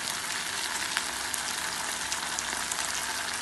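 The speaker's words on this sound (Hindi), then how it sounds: "सब्जियों के साथ ये सारी चीज़ें आपस में मिक्स हो जाएं। और इसे स्टर कर लेते हैं।" Kebab pieces and vegetables sizzle steadily in a hot pan as they are stirred together for a pizza pot pie, a continuous loud frying hiss with faint scraping and no voices.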